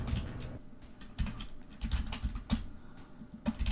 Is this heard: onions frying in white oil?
no